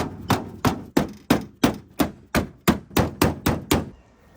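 About a dozen sharp, evenly spaced hammer blows ring on the crumpled sheet metal of a wrecked car hood during paintless dent repair, each strike loud and close with a short metallic decay, slowing slightly toward the end.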